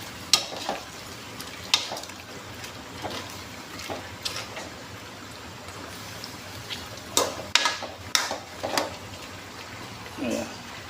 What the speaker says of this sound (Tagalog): Haluin ko muna para lahat malagyan ng tuyo sa katawan.